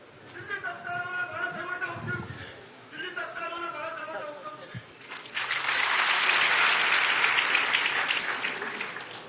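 An audience breaks into loud applause for poet Nitin Chandanshive, a broad roar of clapping that swells in and holds steady after someone speaks over quieter surroundings.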